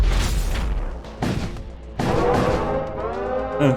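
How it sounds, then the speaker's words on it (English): Lance weapon hits in the Void War video game: several heavy booming impacts, each followed by a crashing, crackling decay, with the last and fullest blast trailing into a ringing tail. "The next lance hit will hit that."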